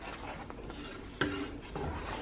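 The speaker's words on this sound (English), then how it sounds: "Continue to mix this around here." Polenta is stirred in a pot with a spoon, giving a continuous soft scraping and thick sloshing, with a couple of sharper knocks against the pot, close up.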